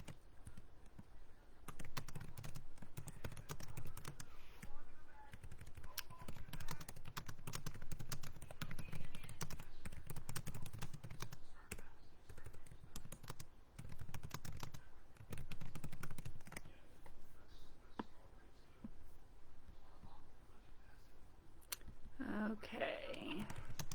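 Typing on a computer keyboard during a club unboxing: steady runs of light key taps and clicks over about twenty seconds, close and fairly quiet, with faint background voice at times.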